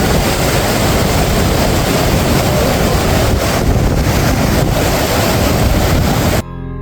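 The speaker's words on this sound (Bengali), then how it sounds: "এখানে ভৈরবী নদী এবং দামোদর নদ মিলিত হচ্ছে একটা ছোট্ট ফলসের মাধ্যমে।" Steady roaring rush of water from a small waterfall where the Bhairavi and Damodar rivers meet near Ranchi, loud and unbroken with wind buffeting the microphone, cutting off sharply at the end.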